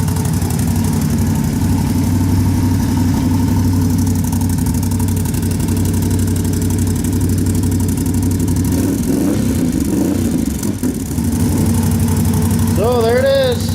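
A Can-Am 570 XMR with an HMF Titan Quiet Series exhaust idles steadily, a low, even rumble that stays close and constant throughout, with a slight wobble near the end and someone talking over it.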